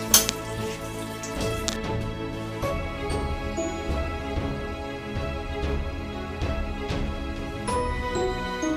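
Cumin seeds sizzle in hot oil in a pan for a chilli paneer dish, a steady crackling fry with a few light metallic clinks of a utensil, close and moderately loud.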